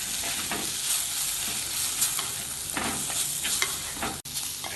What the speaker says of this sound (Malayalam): ഇനി ഇതെല്ലാം കൂടി ഇളക്കി വഴറ്റാം